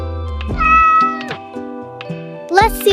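A cat meows clearly and close, a few drawn-out tonal calls with a sharper rising meow near the end, heard alone in a quiet room.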